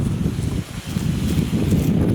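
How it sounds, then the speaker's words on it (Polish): Steady low rumbling wind buffets the microphone throughout, with a faint rustle. "skoro jest zimno, skoro wiatr wieje"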